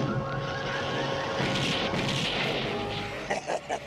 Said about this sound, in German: Wir stürzen ab.